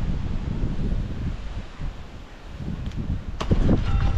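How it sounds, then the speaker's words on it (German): Strong force 7 wind buffets the microphone outdoors on the water during an urban whitewater boat run, a loud continuous roar that surges near the end. "es hat ja auch Windstärke 7, das macht das Ganze nochmal schwerer"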